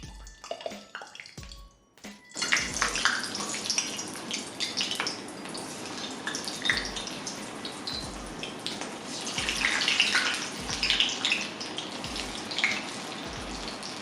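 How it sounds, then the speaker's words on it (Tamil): Green peas vadai dropped into hot oil and deep frying, a dense, steady hiss and crackle of bubbling oil that swells after a brief quieter opening and carries on close and unbroken. "இப்போ நம்ம வடை போட்டு பொரிச்சு எடுத்துக்கலாம்."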